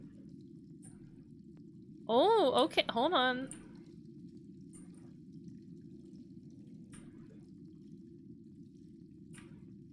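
Water runs steadily in the back of a dark hallway in a video game, a continuous low rushing that lasts throughout while a voice briefly speaks over it.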